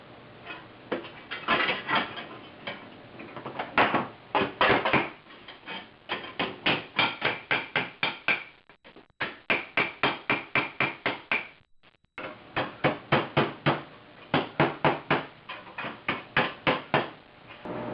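Steel flanges on a 1976 Mazda RX-5 Cosmo being hammered straight, with steady bursts of sharp metallic blows repeating in quick rhythmic runs and short pauses between them, close by and with no talking.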